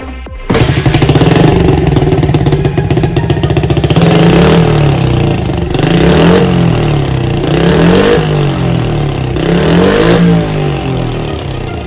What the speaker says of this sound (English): let me see if I can start it up and get a little rev for you guys.